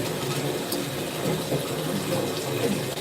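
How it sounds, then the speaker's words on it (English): Water being let out of a household sink, a continuous gurgling, rushing flow that stays steady and close throughout, with no talking. "I'm letting some of the water out."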